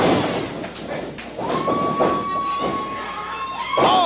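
A belly-to-belly slam in a wrestling match lands with a dull thud over loud arena crowd noise, while a sustained whistle-like tone rises and holds in the background.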